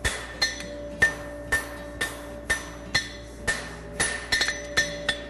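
A hammer strikes a Z bar horseshoe on the horn of an anvil in steady, ringing metallic blows, about a dozen evenly spaced with a quick cluster near the end, close and loud with no talking.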